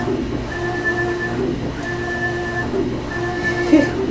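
A printer runs through three repeated printing passes, each a steady whining tone of about a second, over a constant low mechanical hum.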